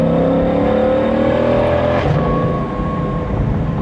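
A Ford Mustang GT500 engine revs loud and close, its pitch climbing steadily, then cuts off sharply and settles into a lower, steady rumble. No one speaks.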